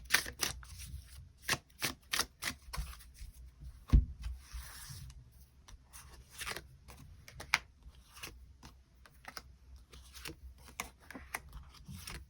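Tarot cards being shuffled and drawn, a series of quick riffling bursts and soft slides close up, with quieter card handling and rustles afterward.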